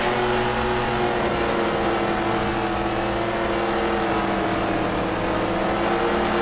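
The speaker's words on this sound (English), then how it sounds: "Just listen to that engine, just sounds like a two-stroke." A dirt track race car in the Dirt Track Racing 2 video game drones with a steady, buzzy, high-revving engine that sounds like a two-stroke, loud and continuous with no voice over it.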